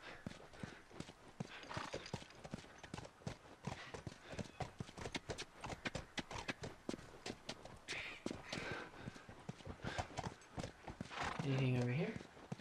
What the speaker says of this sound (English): And I gotta get on the horse again.